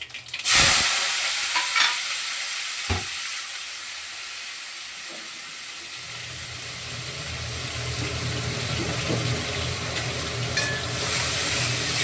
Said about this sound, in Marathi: लसूण ठेचून ठेवलाय मिरची कापून ठेवली दोन्ही संगती टाकून देते